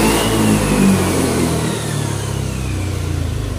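Honda Beat scooter engine after a throttle body cleaning, revved hard close by: a loud rising rev that settles into a steady, smooth mid-pitched run without stumbling.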